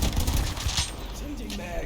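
Rapid, dense gunfire from the shooter video game The First Descendant rattles continuously through a busy, noisy game mix.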